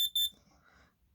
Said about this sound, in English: This one's probably my favorite carbon monoxide alarm.